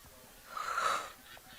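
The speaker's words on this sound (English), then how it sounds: "now I'm yawning." A person yawns at a football game, a single drawn-out, breathy rising and falling exhale lasting about a second, quiet and close against faint background noise.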